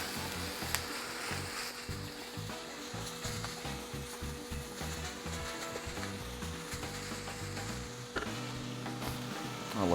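Ground beef sizzles steadily in a pan for a one-pot rice casserole while a utensil repeatedly scrapes and chops at the meat, a close, even frying hiss broken by irregular tapping strokes.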